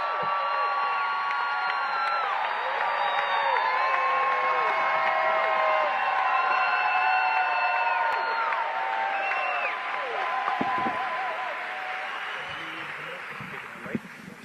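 A large crowd at a political rally for a New York mayoral candidate cheers and whoops continuously, a dense roar of many voices, with scattered clapping underneath.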